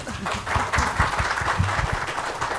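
Audience applause for panelists at a security conference session, loud close clapping mixed with voices and low thumps, over a short burst.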